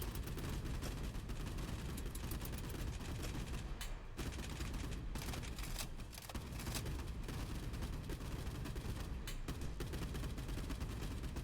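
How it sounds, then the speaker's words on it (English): Continuous dense barrage in a naval combat game, with mortar rounds and heavy gunfire blending into an unbroken roar of blasts and rapid shots, loud and sustained throughout. "More mortar rounds incoming."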